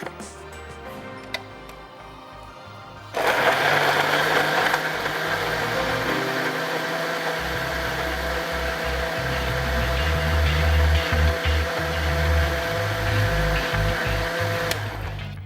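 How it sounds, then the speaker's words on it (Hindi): An electric blender switches on after about three seconds and runs at a loud, steady whirring pitch while it blends a mixture, stopping near the end. Quiet faint sounds come before it, with no talking. "इसको मैं क्या करती हूँ, हल्का सा कर लेती हूँ ब्लेंड"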